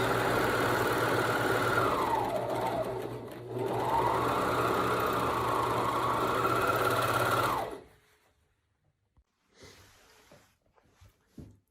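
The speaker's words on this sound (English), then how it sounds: "I'm going to neaten this whole edge with my serger" A serger runs steadily along a fabric edge while board shorts are being made, a loud continuous motor whir with one brief dip partway, then stopping abruptly and leaving faint handling sounds.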